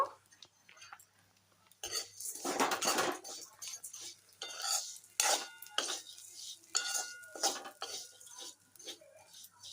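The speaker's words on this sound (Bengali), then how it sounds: "সামাইটা একটু নেড়ে নেব" Vermicelli for payesh is stirred in a pan, close scraping and rattling of a spoon against metal in bursts, with a brief cough or throat sound and some quiet voice nearby.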